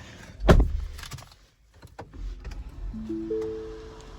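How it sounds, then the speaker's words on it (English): Power window motor of a 2019 Lincoln MKZ Reserve lowering the glass, a steady rising electric whir heard from inside the car after a sharp knock, with no one talking. "Open the window."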